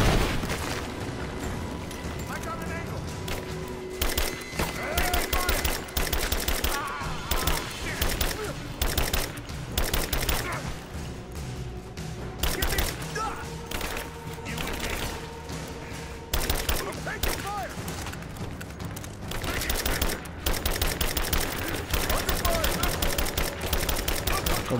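Sustained gunfire in the video game Rise of the Tomb Raider, rapid loud shots and bursts with occasional booms, while someone talks over the shooting.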